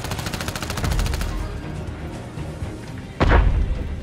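Gunfire in the video game Call of Duty: a fast burst of rapid automatic shots at the start, then a quieter stretch and one heavy, booming shot near the end.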